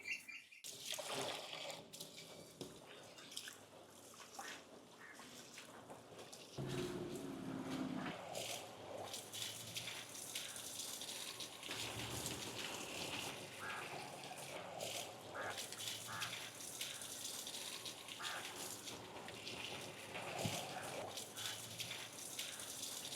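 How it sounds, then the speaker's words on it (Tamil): Toor dal lentils are being washed in water in a home kitchen, giving a faint, continuous swishing and trickling that carries on steadily with small splashes. "இந்த எடுத்து வச்சிருக்கிற பருப்பை வந்து நல்லா கழுவி எடுத்துடுவோம்"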